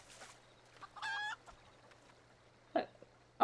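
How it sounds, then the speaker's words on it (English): Green chicken in the video game Final Fantasy XIV clucking: a few short, separate clucks spaced across quiet game ambience, moderately close and clear, with a faint steady hum beneath. "Why is here a chicken sound?"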